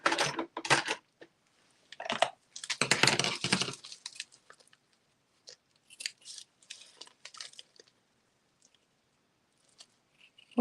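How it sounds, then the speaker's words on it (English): Small, weak scissors cut through a bubble mailer, making quick crinkly snips and rustles in irregular bursts, louder at first and then lighter and more scattered, with no talking. "I'm just going to use a scissor for"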